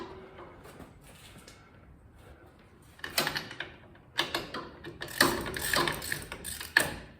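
Wrench ratchets on the ball-stud nut of a 2022 Ford Expedition front knuckle: a quiet stretch of faint clicking, then bursts of metallic clicks and scraping grow louder and come in uneven pulses.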